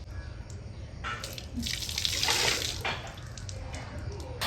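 Water is poured over a child's head during a bath, a close, gushing splash that swells for a couple of seconds and then fades to drips and trickles.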